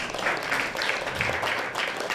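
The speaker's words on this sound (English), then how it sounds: "Very well, give yourself a big round of applause." An audience at a live youth spiritual gathering in Punjab breaks into a round of applause after chanting, a steady wash of many hands clapping at moderate distance, with no talk over it.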